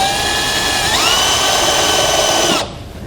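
Power drill spins a 1/2-inch bit through a bracket hole to mark a spot on a vehicle frame rail while installing a Roadmaster Direct-Connect base plate. A steady, close, high whine rises in pitch partway through and cuts off abruptly near the end.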